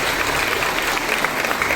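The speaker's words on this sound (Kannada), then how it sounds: "ಒಂದ್ಸಲಿ ಮಕ್ಕಳಿಗೆ ಜೋರಾಗಿ ಚಪ್ಪಾಳೆ ಹೊಡಿಲೇಬೇಕು." An audience at an outdoor stage program in Dandeli applauds a children's dance performance with a dense, loud burst of steady clapping.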